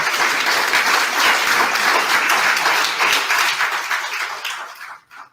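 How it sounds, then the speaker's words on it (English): Audience applause for city council candidates at a League of Women Voters candidate forum, a sustained dense round of clapping from a seated crowd that fades out at the close. "How about a round of applause for our candidates?"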